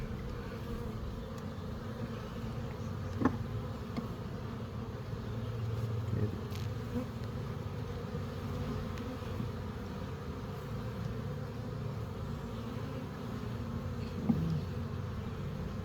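Honey bees swarm and buzz around an open beehive during a hive inspection, a constant close droning hum with a couple of brief knocks from handling the frames.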